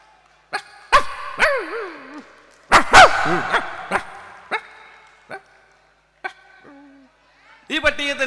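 A voice imitates a dog barking for no reason, giving a series of short, loud, uneven yaps and woofs with pauses between them, ending in a burst of quick barks.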